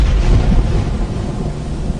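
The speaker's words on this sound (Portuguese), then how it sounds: "mandou trovões, raios e chuva de pedra sobre o país" Deep, continuous rumbling thunder rolls loudly throughout, with broadband noise like a heavy storm and no voices.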